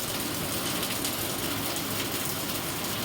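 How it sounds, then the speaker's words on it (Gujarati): A dense, even hiss of heavy rain pouring steadily on a market street in Virpur, close and loud, with no voices and no breaks. "વરસાદ ફૂલ ચાલુ છે."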